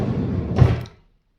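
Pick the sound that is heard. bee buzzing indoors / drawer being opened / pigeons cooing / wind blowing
drawer being opened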